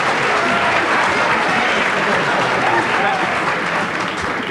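Studio audience at a 1997 television football panel show breaking into loud, sustained applause and crowd noise throughout, with voices mixed in underneath.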